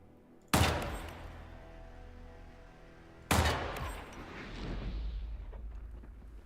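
Two sharp, loud gunshots crack in Hitman Freelancer, spaced a few seconds apart, the second followed by a lingering rumbling burst and tail.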